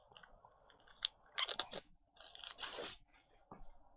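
Plastic wrapping on a cucumber being torn open, a few sharp crinkling, crackling bursts with brief pauses, close and moderately quiet, no talking.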